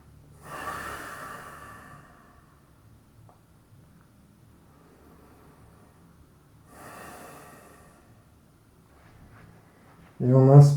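Breathing during a short pause in a French bodyweight workout: two soft bursts of exhaled breath about six seconds apart, close to the mic, then a brief louder vocal sound at the very end.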